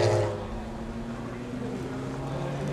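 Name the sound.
Corvette race car driving onto pit road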